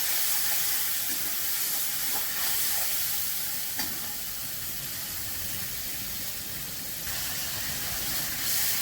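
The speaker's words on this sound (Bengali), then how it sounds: "এবার মশলাটা একটু কষিয়ে নেব।" Spice paste of chilli, turmeric and cumin powder mixed with water and salt sizzles and fries in a pan for a Bengali fish curry, a steady close hiss with faint stirring clinks and no voices.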